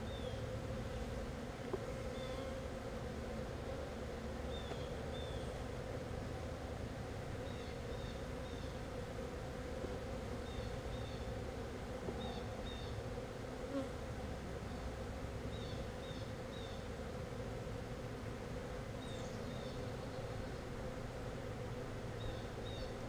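Honey bees drone steadily around an open hive during a weekly inspection, a dense continuous buzz with faint higher whines, close and even throughout.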